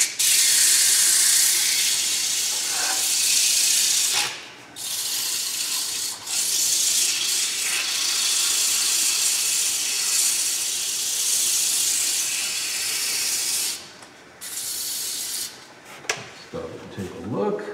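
Sandpaper held against wood turning on a lathe for a cocktail smoker, a steady loud hissing rasp that runs almost unbroken, with brief dropouts when the paper lifts away.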